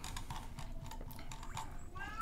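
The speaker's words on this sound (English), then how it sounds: "I hear the kitty again. She meows quite loud." A pet cat meows loudly a few times, heard at a distance beneath game sounds and a steady background hum.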